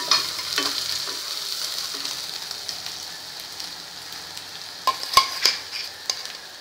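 A steady sizzle of frying as a ground paste of peanuts, coconut, coriander, ginger and curry leaves is stirred into a spring onion curry, with a few sharp spoon scrapes near the end.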